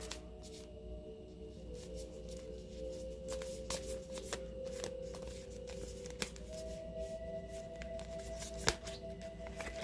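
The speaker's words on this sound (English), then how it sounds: "the card that I pulled for you, Jeanette, is the Ten of Wands." Tarot cards being shuffled and drawn by hand, a steady run of soft riffling and sliding with a few sharper card snaps, close and quiet over a low background hum, with no talking.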